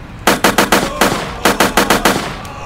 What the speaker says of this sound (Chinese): 我这台车可以发射子弹